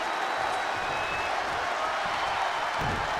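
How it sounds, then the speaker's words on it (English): Arena crowd noise in the WWE 2K25 wrestling video game, a steady, dense roar of cheering spectators with a faint whistle early on, continuous and moderately loud throughout. "What a raucous crowd here tonight."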